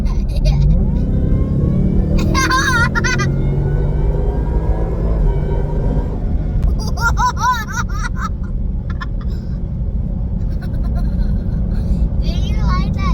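Supercharged Ford Mustang S650 engine revving in repeated bursts over a steady low rumble, with laughter and voices between the revs.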